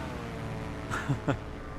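Steady engine drone from a Cessna Corvalis aircraft in Microsoft Flight Simulator 2024, a continuous mid-level hum with two brief louder bumps near the end, no talk over it.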